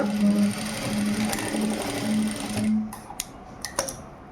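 A sewing machine stitching a blouse cross piece in a tailoring session runs in steady bursts of motor whir and needle clatter for almost three seconds, then stops, leaving a few faint clicks and handling taps.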